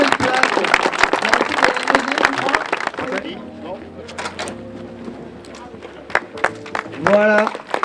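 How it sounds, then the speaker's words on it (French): Scattered, close clapping from a small crowd at the inauguration of ESTIM's new premises in Montbizot fades after a few seconds, leaving quiet room sound and murmuring before another short burst of claps. "On va applaudir Estime avec leur nouvelle place."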